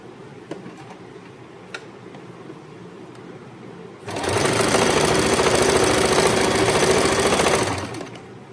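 Sewing machine stitching the top edge of a pair of shorts, starting after a quiet pause with a steady, loud, fast mechanical whir that runs for about three and a half seconds and then stops.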